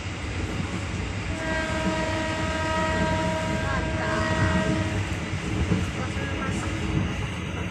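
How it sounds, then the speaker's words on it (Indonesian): A passenger train races along a railway line in Lampung, Indonesia, toward Tanjungkarang station, with a steady rumble of wheels on track and a sustained horn blast in the middle. "tambah ngebut kereta apinya"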